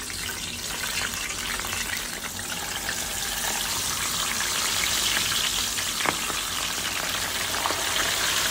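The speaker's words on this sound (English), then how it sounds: "get ready to start fry the fish" Fish frying in hot oil, a dense continuous sizzle that stays steady and close and grows slightly louder, with faint pops and no talk.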